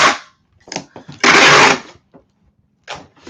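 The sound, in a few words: packing tape being dispensed while packing eBay orders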